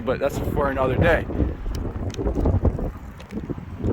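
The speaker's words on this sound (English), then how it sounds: "Sorry for the wind, it just picked up." Strong wind buffets the microphone outdoors beside a Crown Victoria P71, a steady rough rumble under a man's nearby speech.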